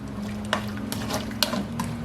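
Onion and ginger being stirred in a karahi for a goat karahi, a close, steady sizzle over which sharp scrapes of the spoon against the pan land every half second or so, with no talking.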